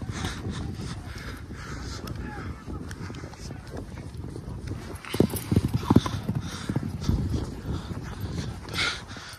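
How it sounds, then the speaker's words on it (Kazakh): Rapid clip-clop of horses galloping over open mountain pasture during a traditional kokpar horseback game, hoofbeats swelling nearer midway, with outdoor wind noise behind. "Ayakta жылқылар да шауып жүр, жарықтықтар."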